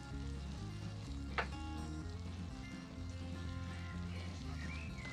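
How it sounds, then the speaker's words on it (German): Butter melts in a Dutch oven, giving a soft, continuous sizzle with a low hum beneath and one brief clink near the start, heard faintly and alone. "Ja, die Butter lassen wir jetzt ein bisschen zerlaufen."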